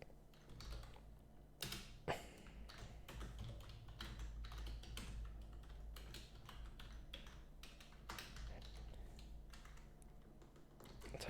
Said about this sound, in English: typing one-handed for pretty much no reason.